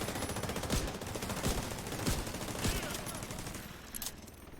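An automated turret in the shooter The Division 2 lets off rapid, continuous gunfire, with a dense rattle of shots punctuated by heavier reports roughly every half second to second.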